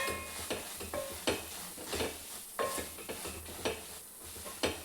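Broccoli fry stirred in a sizzling pan after a sprinkle of pepper powder, with repeated spatula scrapes and knocks every second or so over a constant close frying hiss, no voices.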